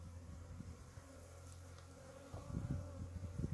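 Honeybees hum steadily from an open hive after a restart, a continuous drone with faint mechanical background, no talk.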